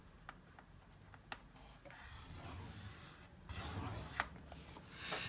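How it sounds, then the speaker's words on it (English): A score line is pressed into file folder paper in a steady dry scraping rub that builds and swells, close and quiet, with a few light ticks and no talking. "I'm going to score it at 4 inches."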